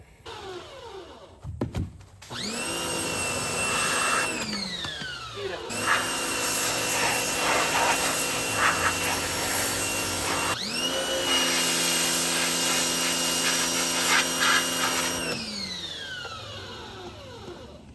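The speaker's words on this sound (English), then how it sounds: "so I'm finna hook the pressure washer up and just kind of" A pressure washer blasts aircraft paint remover off a chrome part for a Honda XL250 dual-sport motorcycle. Its motor whine rises near the start, drops briefly, then holds a loud steady drone before winding down at the end.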